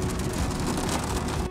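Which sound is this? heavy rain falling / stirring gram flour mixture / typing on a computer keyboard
heavy rain falling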